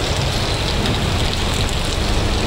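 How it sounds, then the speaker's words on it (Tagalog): Heavy rain pours down during a tire test on a Honda Click scooter with Beast Flash tires, a loud, dense, continuous roar with rumbling low texture and no talking. "ang lakas ng ulan"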